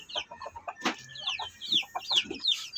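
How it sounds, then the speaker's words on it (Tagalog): Two-week-old black chicks peep with shrill, rapid chirps alongside adult chickens clucking on a small backyard poultry farm, a steady close-up chorus of overlapping calls with no talking. "ito yung mga pasisiw guys 2 weeks old yan yung ating black 2 weeks old na mga pasisiw yan"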